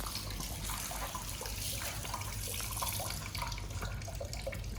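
Water running steadily as a bird is soaked for defeathering at a restaurant in Vietnam, a constant close, splashing pour like a tap filling a basin, with no talking.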